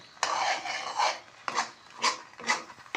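Chana dal halwa stirred and roasted in a kadhai, with a spoon scraping the metal pan in four or five rough, rasping strokes at a steady pace, close up and with no talking.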